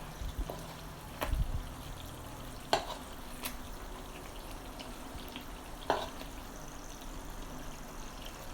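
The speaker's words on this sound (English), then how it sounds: "now I went ahead and put the pork chop inside the sauce" A pork chop sizzles softly in a pan of buttery garlic brown sugar sauce, a faint steady hiss broken by a few sharp clicks of utensils against the pan, with no voices.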